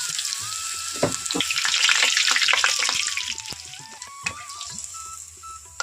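Onion pakoras fry in hot oil with a steady, bright sizzle dotted with sharp pops and crackles. The sound swells midway, then eases slightly, with no talking.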